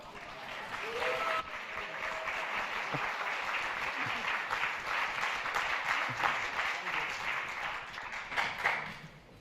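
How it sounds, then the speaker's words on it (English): Sustained applause from the audience at a Berlinale film press conference, a broad continuous wash of clapping lasting several seconds, swelling slightly near the end, after a brief moment of voices at the start. "thank you for your applause and the answers that you have shouted out"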